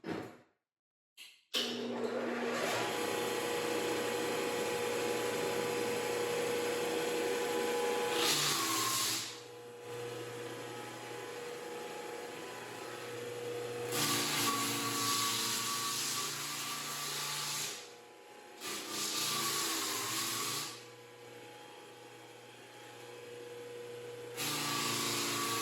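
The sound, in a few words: drum sander and vacuum running while refinishing old wood floors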